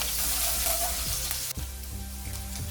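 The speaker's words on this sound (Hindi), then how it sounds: "ऑयल अच्छे से गर्म हो जाए फिर उसमें डालेंगे क्रश्ड जिंजर एंड गार्लिक। इसको 1 से 2 मिनट तक फ्राई कर लेंगे।" Crushed ginger and garlic fry in hot oil, a dense steady sizzle with a few stirring scrapes, close and loud, no voices.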